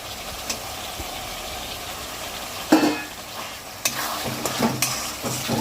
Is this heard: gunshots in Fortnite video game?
no